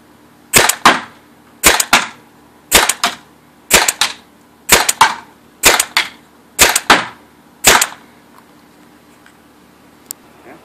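Tippmann TiPX paintball marker fitted with an A5 barrel fires nine sharp pops in a steady rhythm, many as quick doubled cracks, loud and close, then silence.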